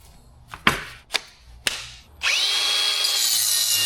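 A power tool cuts aluminum during repairs on a navy patrol boat, opening with a few sharp clacks and short bursts before settling into a loud, continuous high-pitched cutting whine close by.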